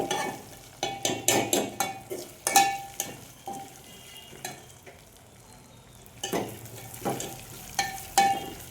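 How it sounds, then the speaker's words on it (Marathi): Dried coconut roasting in a pan, cooked alongside cashews and almonds for a Maharashtrian Holi meal, is stirred in irregular bursts of scraping and clatter over a soft, continuous sizzle. "त्यानंतर परतवतोय सुकं खोबरं. थोडंसं लालसर होईपर्यंत परतवायचे."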